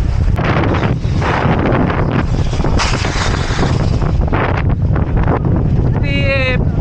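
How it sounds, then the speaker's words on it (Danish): Strong wind blows outdoors during the Barcelona half marathon, a loud continuous roar buffeting the microphone, with a few brief tonal chirps near the end. "Det blæser måske en del, så det blæser ret meget."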